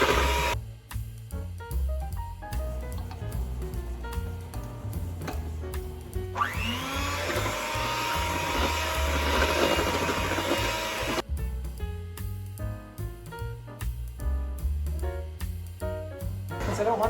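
Electric stand mixer running steadily on speed 1, churning gingerbread cake batter with eggs and milk; a continuous motor whir with beater rumble sits over background music, rising and fading in the middle of the stretch.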